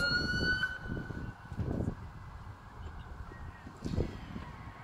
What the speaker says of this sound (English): and you can hear the ambulance coming up.